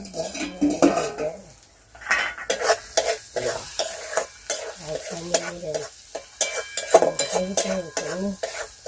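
Onions frying for Indian sev usal, a spatula scraping and clanking against the pan in bursts, with a soft sizzle underneath, close and fairly quiet, a voice speaking briefly at times.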